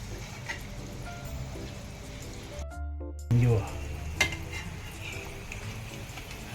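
Potato vadas, made without gram flour, deep-frying in oil, a soft steady sizzle and bubbling with clinks of a utensil in the pan, briefly cut by a silent gap and a bump.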